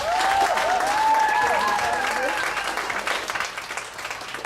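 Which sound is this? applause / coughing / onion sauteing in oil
applause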